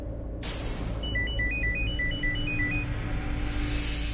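A phone ringtone for an incoming call plays a bright, repeating electronic melody of short chiming notes over a low background hum, starting abruptly and continuing steadily without talk.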